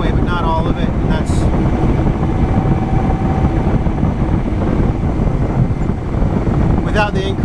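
Steady wind roars over snow beside a driveway where drifts are forming, a continuous loud rush with buffeting against the microphone and a voice speaking briefly over it.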